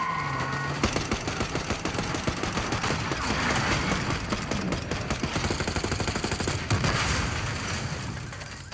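Dense, rapid gunfire rattles without pause through a street ambush in a Black Ops 6 cutscene, with sustained automatic bursts and crackling shots layered loudly over one another.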